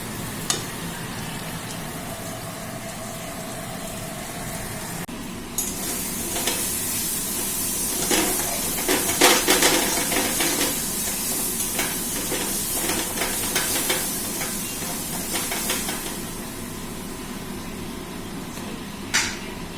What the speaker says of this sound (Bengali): একটু এখানেই সিদ্ধ করে নেব